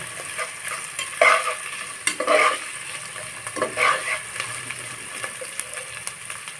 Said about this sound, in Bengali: পেঁয়াজ রসুনটা আমি লাল লাল করে ভেজে নেব